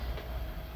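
A long passenger train with a dining car rumbles past in a brief, faint, low clatter of rolling cars.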